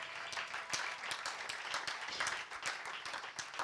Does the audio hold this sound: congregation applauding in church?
yes